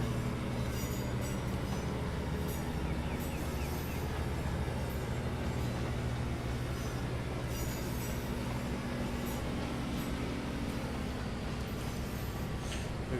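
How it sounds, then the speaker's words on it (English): Class 156 diesel multiple unit engines run steadily on the West Highland Line, a continuous loud drone with a low hum, wheel noise and occasional faint squeals, heard close and without talk. "listen to them engines"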